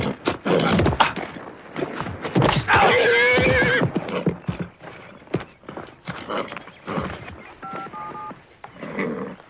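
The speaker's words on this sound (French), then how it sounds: "Mets le cheval dans le van." A horse being loaded into a trailer lets out a loud, close whinny that shakes for about a second, then hoof clops and shuffling follow, with a short electronic tone near the end.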